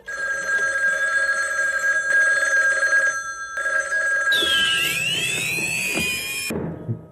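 A telephone bell rings steadily in a 1984 gangster film scene set during Prohibition, a loud continuous trill that then gives way to rising, swooping tones before stopping.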